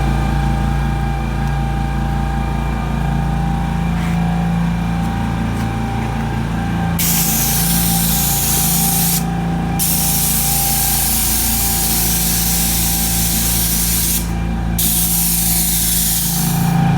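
A steady, loud hiss of asphalt driveway sealer spraying runs continuously alongside a droning engine, with a couple of brief pauses where the spray cuts out.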